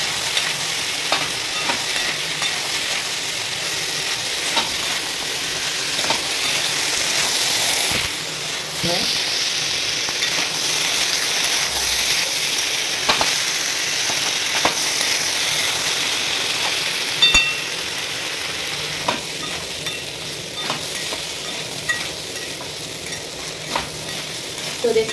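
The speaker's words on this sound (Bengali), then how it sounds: "লবণ দেওয়ার পরে এটাকে ভালোভাবে আবার মিক্স করে নেব" Sliced potatoes fry in a pan after salt is added, stirred with a steady, fairly loud sizzle and repeated spatula scrapes and clinks throughout.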